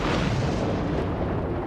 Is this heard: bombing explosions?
yes